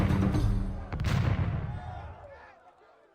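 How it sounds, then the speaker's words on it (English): Heavy cannon blasts from galleasses in the Age of Empires 2 Battle of Lepanto campaign boom twice in quick succession, deep and loud, then rumble away into a fading echo. "the drone of splashing oars is finally drowned out by the thunder of cannon"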